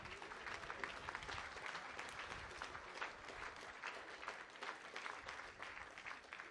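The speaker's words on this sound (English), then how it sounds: "A round of applause for the live streaming today." Sustained applause from a crowd at a school rowing regatta, fairly distant and even, with scattered claps forming a continuous wash.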